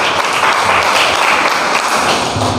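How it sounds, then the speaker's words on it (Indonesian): A classroom audience applauds, a dense, steady burst of many hands clapping close by for a few seconds. "kasih aplaus dulu"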